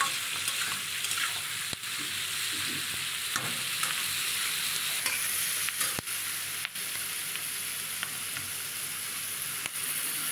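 Capsicum and chicken for chilli chicken fry in a pan, a steady sizzling hiss punctuated by sharp clicks and scrapes of stirring at irregular intervals, with no talk.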